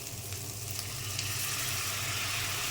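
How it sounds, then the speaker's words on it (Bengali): Spices frying in a pan for a koi fish bhuna hiss into a loud, steady sizzle as hot water is poured in, the broad crackle holding evenly throughout with a low hum beneath and no talking. "এখন একটু জল দিয়ে দেব গরম জল দিয়ে দিলাম"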